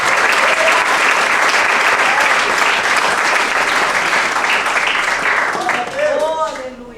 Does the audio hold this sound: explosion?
no